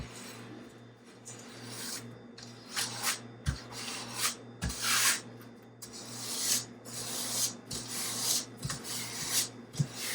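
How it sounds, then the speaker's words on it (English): A float dragged with firm pressure across smooth tiles to push grout into the cracks, giving a steady rubbing scrape in repeated strokes, close and alone. "You're just pushing it across the crack, trying to keep a bit of an angle so that you're scraping the grout down into the crack"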